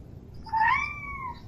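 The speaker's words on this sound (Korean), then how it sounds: "고양이가 있습니다." A cat gives a single rising, drawn-out meow, close and clear over a low background rumble, with no one speaking.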